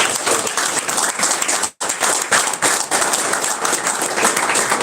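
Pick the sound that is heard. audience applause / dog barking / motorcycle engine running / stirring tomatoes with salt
audience applause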